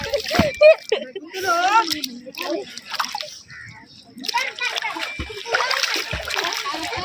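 A child splashes and sloshes in river water at a ghat during Chhath Puja. The splashes are close and irregular, and voices talk over them throughout.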